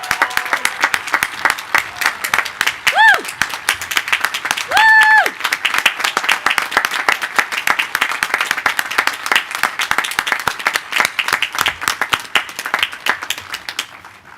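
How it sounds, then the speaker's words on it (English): Loud, sustained applause from a commencement ceremony crowd at a law school, many hands clapping steadily for over ten seconds, with a couple of brief whistles or cheers rising above it. "Please join me in a round of applause."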